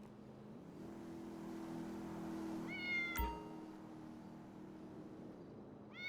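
A cat meows once in GTA V, a short rising cry over a low engine hum and a passing car in a quiet scene, with a sharp click just after.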